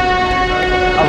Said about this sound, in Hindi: अब हमारी ट्रेन जो है वो चलने लगी है।